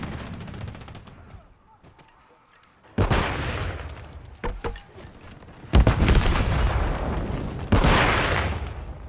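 In Call of Duty: Modern Warfare 3, a grenade blast booms loud and close, set among heavy bursts of nearby gunfire and further explosive impacts that come in several loud surges.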